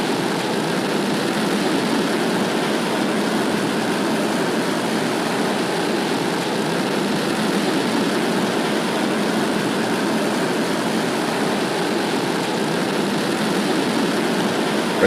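A rocket launch gives a steady, unbroken broadband engine roar that stays loud and even throughout, with no break for stage ignition and no talk.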